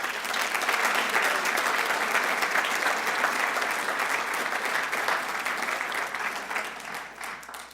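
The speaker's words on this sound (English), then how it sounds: "Let's give yourselves a round of applause" Sustained applause from a large audience at a business association's mid-winter general session fills the room, loud and steady before gradually thinning toward the end, with no speech over it.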